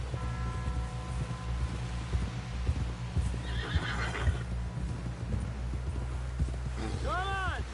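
A horse gallops in Red Dead Redemption 2, its rapid hoofbeats running under a constant low rumble, and near the end it lets out a loud, close neigh. Voices murmur faintly in the background.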